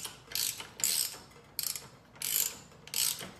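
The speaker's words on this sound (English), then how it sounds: "So I'm going to start this axle nut, but I'm certainly not going to tighten it." Axle nut being started on the threads of a heavy eBike wheel axle, five short bursts of clicking, ratcheting metal spins close by with brief pauses between turns.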